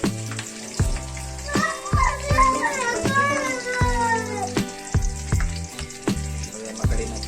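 Curry leaves crackle in hot tempering oil for puffed-rice chevdo, a bright sizzle with sharp spits and pops while a cat meows repeatedly nearby.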